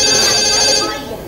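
A telephone rings loudly on a live radio show as a caller comes in, the electronic tone steady and fading slightly near the end.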